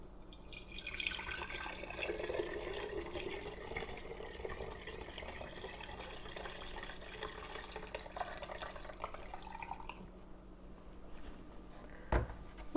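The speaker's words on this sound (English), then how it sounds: "pour your broth into a couple of quart jars" Homemade broth is poured into quart jars, producing a steady close trickle and splash of liquid. It ends with a brief clink of glass.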